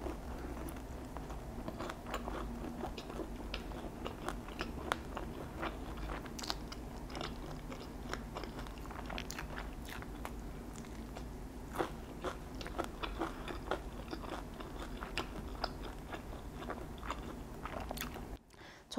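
Soy-sauce fried chicken from 60계 is eaten up close, with repeated crisp crunchy bites and steady chewing sounds going on for many seconds, no talking over them.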